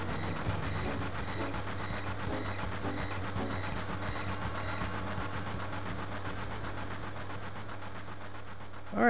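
Steady rumble of a moving train in Final Fantasy VII, loud and continuous throughout with a constant low engine drone and rhythmic rolling clatter, ending in a brief louder burst.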